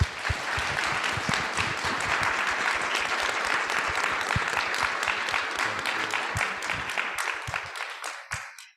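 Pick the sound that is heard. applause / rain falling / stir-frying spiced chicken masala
applause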